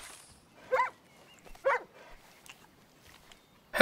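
A dog in the video game Far Cry: New Dawn gives two short barks or yips about a second apart, fairly close and clear, followed by quieter faint sounds.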